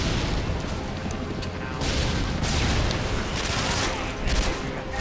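Dense, sustained gunfire with booming explosions rumbling throughout Modern Warfare 2 Spec Ops, a chaotic battle din with no clear gaps.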